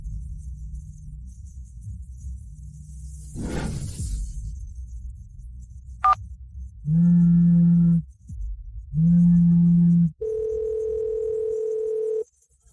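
A telephone rings indoors in two loud electronic bursts, followed by a sustained steady tone, after a quiet room with faint rustling.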